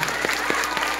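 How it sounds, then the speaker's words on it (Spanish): Loud, dense clapping from a school audience greeting a third-grade class at a flag day ceremony, with brief, rapid, overlapping claps. "Fuertes palmas para el tercer grado B."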